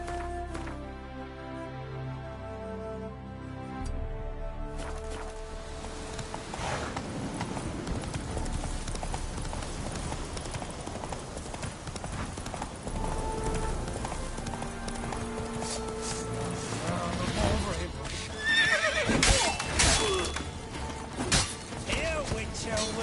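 Roach, the horse in The Witcher 3, gallops with a steady, quick hoof clip-clop that continues throughout, mixed with game sounds and a speaking voice.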